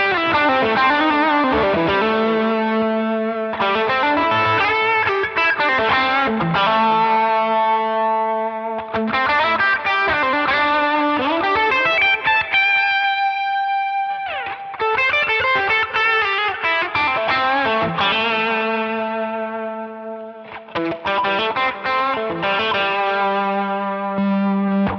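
Electric guitar through a Line 6 Helix Horizon Drive, with the attack control raised step by step, repeating the same picked distorted phrase several times with brief pauses between passes, loud and close.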